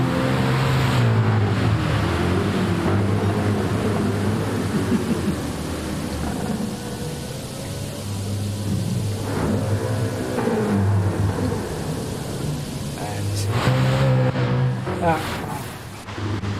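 Racing cars on heavy wet tyres in a simulated race in rainy conditions drone and rev continuously, with engine pitch rising and falling and a hiss of spray beneath it.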